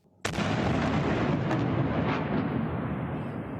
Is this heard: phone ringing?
no